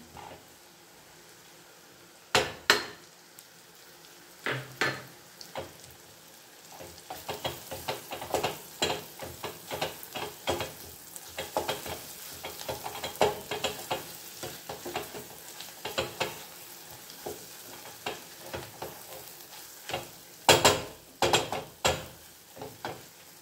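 Whole spices and ground masala fry in a pot for kala chana and aloo sabji, with a low sizzle under many close, rhythmic scrapes and clanks of stirring that grow busier toward the end, with no talking.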